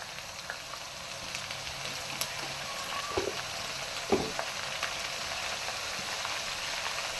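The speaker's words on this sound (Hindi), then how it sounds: "अब डालूंगी 1 स्पून लहसुन अदरक का पेस्ट।" Garlic ginger paste frying in oil with lightly browned onions, a soft steady sizzle with a few small spatters and stirring clicks, fairly quiet and with no speech.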